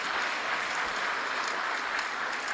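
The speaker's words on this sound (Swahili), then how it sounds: "Makofi mengi kwa Mheshimiwa Rais." Applause for Tanzania's President at a formal state ceremony, a dense steady wash of many hands clapping that fills the whole stretch evenly.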